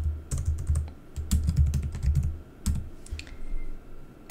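Keys clatter on a computer keyboard as an email address is entered, a close run of quick uneven taps in short bursts with brief pauses, no voices.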